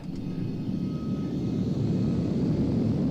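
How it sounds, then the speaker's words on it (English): Airplane engines start up at a D-Day 50th anniversary event, a steady, loud, low droning roar that holds throughout. "Now you just wait till you see these engines light up."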